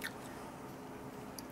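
Crunchy keto cheese chips being bitten and chewed up close, a short run of soft crisp crunches and mouth sounds, fairly quiet and with no talk.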